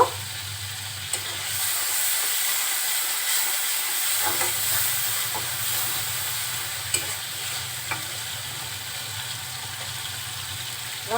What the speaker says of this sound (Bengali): খুব অল্প পরিমাণে ঝালের গুঁড়া দিয়ে মশলাটা খুব সুন্দরভাবে কষিয়ে নিব